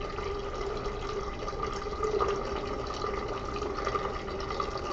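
Water steadily draining from a Quanser coupled-tank process control rig after its pump is stopped makes a continuous trickling, gurgling wash that stays even throughout, with a faint hum beneath and no voices.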